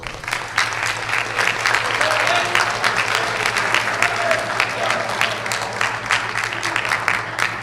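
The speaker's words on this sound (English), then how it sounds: "Please give our candidates a round of applause." A high school presidential debate audience applauds its candidates with dense, sustained clapping that runs for the full seven seconds at an even, lively intensity.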